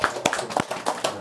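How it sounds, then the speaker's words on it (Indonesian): Applause for the health cadres at a neighbourhood community meeting: a short burst of several hand claps, close and moderately loud, with uneven spacing and no voices over it. "Kita berikan aplaus kepada kader."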